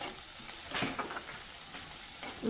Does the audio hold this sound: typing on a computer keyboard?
no